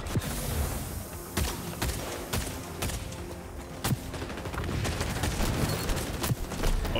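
Sniper gunfire in the video game XDefiant, a series of sharp, separate cracks spaced irregularly over a background of scattered game noise and distant shooting, moderately loud.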